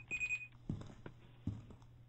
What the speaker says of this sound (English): these alarms keep going off, and these are alarms for the door